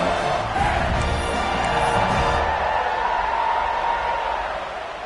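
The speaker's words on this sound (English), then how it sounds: "this crowd is feeling themselves after that last drive." Football stadium crowd roaring and cheering after a 76-yard touchdown drive, a dense sustained wash of voices and whoops that stays loud before easing slightly at the end.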